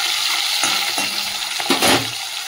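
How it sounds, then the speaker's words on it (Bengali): Fish frying in hot oil in a wok, a steady close sizzle and hiss running throughout with a few brief bursts of crackle and spatter. "দেখো তেলটা গরম হয়ে গেছে, এবার মাছটা দিয়ে দিচ্ছি।"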